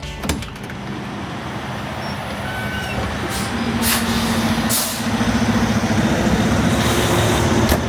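Steady road traffic rumble at a truck stop with engines idling and passing vehicles, a brief hiss like an air brake, and a low droning hum joining partway through.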